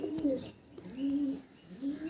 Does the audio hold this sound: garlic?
no